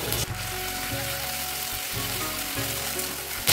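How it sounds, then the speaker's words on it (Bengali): Ginger garlic paste frying with onions in a home kitchen, a steady loud sizzle with crackling hiss running throughout, alongside a low droning hum with brief breaks. "পেঁয়াজটা একটু ভেজে নিয়েছি, এইবার আদা রসুন বাটা দিয়ে দেবো"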